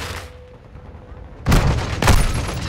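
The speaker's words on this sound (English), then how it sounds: "Flash grenade!" A flash grenade detonates in Modern Warfare II during close-quarters fighting inside a building: a loud, sudden bang followed by a second sharp burst about half a second later, after a quieter stretch.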